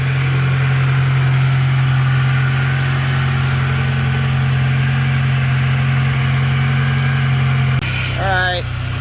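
A Mitsubishi Starion engine idles after fuel injector replacement, giving a loud, steady, close-up low drone with an even hum throughout and a brief voice near the end.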